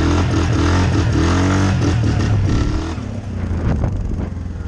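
An off-road vehicle's engine revs hard during a wheelie in a mud park, a loud close rising and falling roar with clattering.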